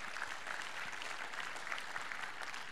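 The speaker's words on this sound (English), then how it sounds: "Please give them a big round of applause for being here tonight." Audience applause for a panel of guests at an evening missions report event. The clapping is soft and even, heard from a distance, and lasts throughout.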